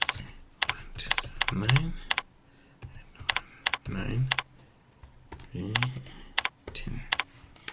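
Keys tapped on a computer keyboard while entering a national ID number into payroll software, quick clusters of close clicks in short bursts, with a voice speaking between them.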